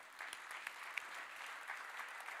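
An audience at an evening event claps steadily in a dense, continuous round of applause, heard faintly and at some distance, with no talking over it.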